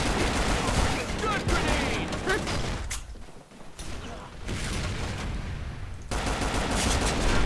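Bursts of SCAR-L rifle fire in an arctic-combat shooter game, loud dense volleys with a brief lull midway before firing resumes.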